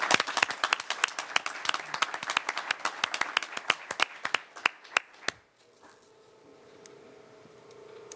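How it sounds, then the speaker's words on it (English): Applause for Rick at a city council meeting, crisp clapping from a modest audience that patters on for about five seconds, then cuts off into quiet room tone. "Give a round of applause for Rick."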